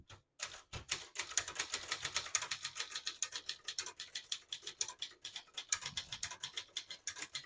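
Rapid, steady typing on a 1965 Brother De Luxe vintage portable typewriter, with crisp, close keystrokes clattering in a fast, even rhythm throughout, alone without any talk.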